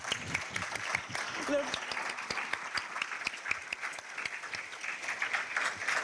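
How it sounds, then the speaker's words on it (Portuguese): A conference audience claps for the PyLadies community, a steady wash of many hands with sharp individual claps standing out, continuous and moderately loud throughout with a few voices mixed in. "eu queria uma salva de palmas para todas as PyLadies"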